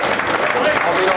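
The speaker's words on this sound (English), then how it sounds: "we'll give the lads a clap." Audience clapping for a cricket club's senior team at an awards night: a dense, steady wash of applause, close and loud, filling the whole stretch without letup.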